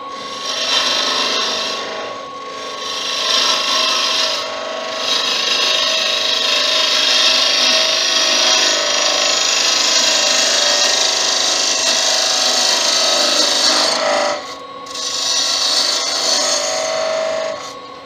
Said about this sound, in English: Smaller gouge again, have more control on it.